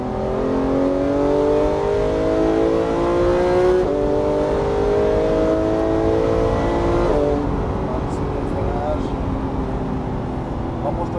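A Porsche GT3 accelerates hard on the Issoire circuit, its engine climbing in pitch through successive gear changes, loud and close from inside the car, with a voice speaking over it.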